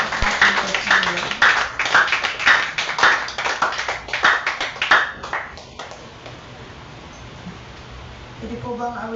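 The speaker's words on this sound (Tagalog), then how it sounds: "Yung malakas na palakpak po ang ating Panginoon." Church congregation at a Sunday service clapping loudly, a long run of sharp, fast claps in uneven bursts that thin out and fade midway, leaving quieter room noise and a faint voice near the end.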